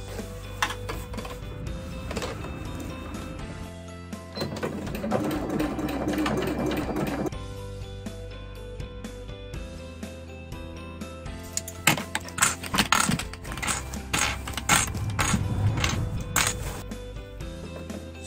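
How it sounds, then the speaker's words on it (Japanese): A sewing machine stitches synthetic leather parts for a kei camper's pop-up roof, running in steady bursts of rapid needle clatter with short pauses between seams, close and fairly loud. "4箇所目ほどきましたので、こちらも縫い直していきます。"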